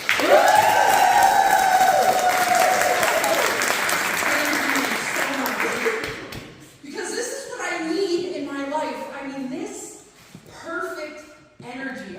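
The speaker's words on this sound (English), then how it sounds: "Give yourselves a round of applause." A comedy show crowd breaks into loud, dense applause with some cheering and shouts, lasting about six seconds before fading, followed by a performer speaking into a microphone.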